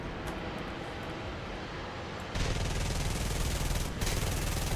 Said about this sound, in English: I do really like the Browning machine guns.